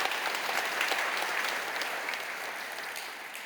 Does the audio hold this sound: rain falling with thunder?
no